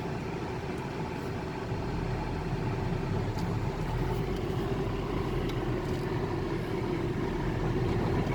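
A car drives along a village road in Novyi Stav, giving a steady, close engine and tyre rumble that holds evenly throughout with no talk.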